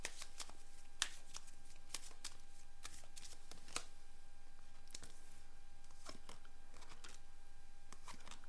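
A deck of tarot cards is shuffled close by, with repeated quick riffling bursts at a quiet level and no talking.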